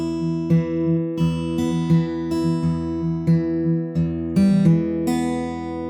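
Fingerstyle 12-bar blues on guitar, opening two bars, a close, clear pattern of plucked notes over a steady thumbed bass in an even rhythm, ringing alone without talk.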